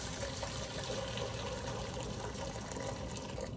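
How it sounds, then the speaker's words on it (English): Hot water pours into a bowl in a home kitchen during cookie baking, a continuous close splashing, gurgling stream that holds steady from start to finish. "And then we're gonna pour in our hot water."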